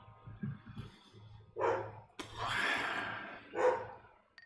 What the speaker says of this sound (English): And why is my dog down there barking?